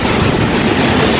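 Roaring typhoon-force wind from Super Typhoon Odette, a dense, continuous rushing buffet with low rumble, loud and unbroken throughout.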